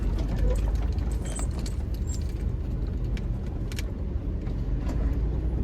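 A car being driven out over a badly potholed village road gives a steady rumble of engine and road noise throughout, with rattling and clinking mechanical sounds on top.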